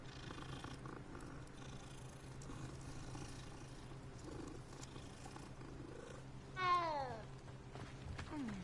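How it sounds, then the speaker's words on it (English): A cat in the video game Hogwarts Legacy gives a short, rising meow near the end, heard over a steady low ambient game soundscape and music bed. "Another cat."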